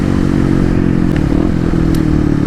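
A Kawasaki KLX dual sport motorcycle rides along with a steady, loud engine drone and harmonic hum, accompanied by constant rattling and wind rumble throughout with no talk.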